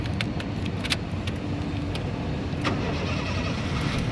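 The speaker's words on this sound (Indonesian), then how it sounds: "nah berikutnya sekarang kita coba nyalakan mobil ya." 2007 Honda Jazz 1.5 i-DSI automatic being started, heard from a distance: faint clicks and a brief crank, then a soft, steady engine hum over quiet background noise.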